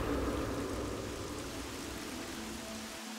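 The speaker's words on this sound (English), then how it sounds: "It made it rain." Steady rain falls in the Myst V video game, a continuous hiss of drops spread across a wide range that stays fairly even and moderately loud, then cuts off abruptly at the very end.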